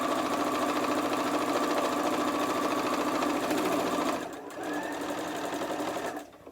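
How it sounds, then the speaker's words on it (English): A sewing machine stitches a pocket seam on a fabric star place mat, running in a loud, fast, steady whir that slows briefly, resumes, and then stops. "we're simply going to sew along that seam to secure the pocket into place"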